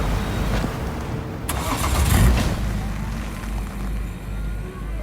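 Car engine starting in the video game Cyberpunk 2077, a steady mid-pitched engine rumble with a brief higher burst partway through, fairly loud and continuous over a low hum.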